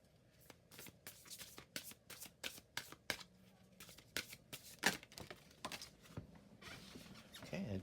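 Oracle cards shuffled by hand close up, a quick series of crisp riffling bursts in an uneven rhythm, quiet and alone with no talking.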